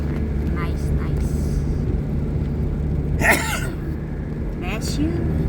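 A short, sharp sneeze bursts out inside a moving vehicle on a road trip, over steady engine rumble and road noise, with people chatting nearby before and after.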